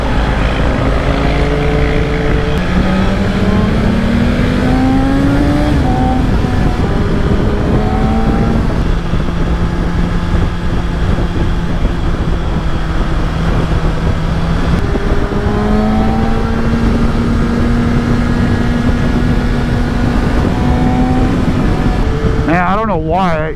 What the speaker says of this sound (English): the throttle, it's like this insane induction noise coming from this area.